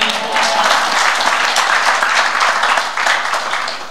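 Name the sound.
congregation applause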